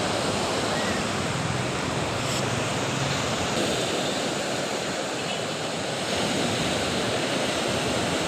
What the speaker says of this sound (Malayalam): അവിടെ നിന്ന് ഒരു തിരമാല വരുന്നുണ്ട് നല്ല തിളങ്ങിയിട്ട്